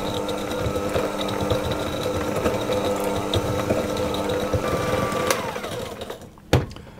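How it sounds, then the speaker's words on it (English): An electric hand mixer whirs steadily while creaming butter and sugar in a bowl, a close, even mechanical buzz with rattling beaters that tapers off and ends with a thump near the close. "I'm simply going to cream the butter and the sugar with my hand mixer until it's all combined."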